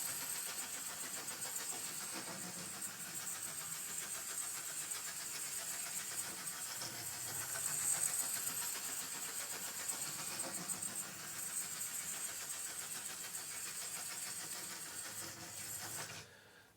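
An old Hornby model train locomotive from an industrial freight set runs with its sealed motor buzzing, a faint, steady whirring hum that holds for about sixteen seconds and then cuts off abruptly.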